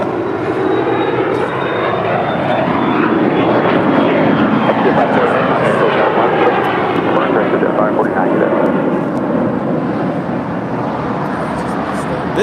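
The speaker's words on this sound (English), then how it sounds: "This is a Bombardier Challenger 300 departing to Cabo San Lucas" A Bombardier Challenger 300 business jet departing LAX roars loudly and steadily nearby, its engine noise swelling and shifting in pitch as it passes, with people talking over it.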